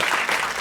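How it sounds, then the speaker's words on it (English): Audience applause, a brief burst of dense clapping from a crowd, steady and full for under a second. "So let's give them a round of applause"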